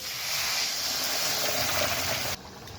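Water poured into a pan of fried, well-cooked spice paste for a duck egg curry, a steady loud hissing, bubbling rush lasting a couple of seconds before cutting off abruptly, with no talk.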